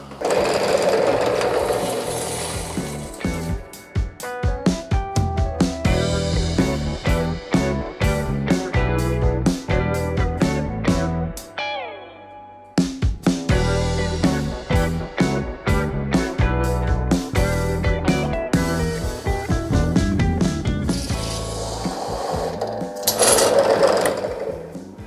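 Med-Ash drill bit, made by Zuber, boring through metal in a drill bit comparison test, a loud continuous grinding whine with rapid pulsing bursts that carries on almost without a break and dips briefly midway.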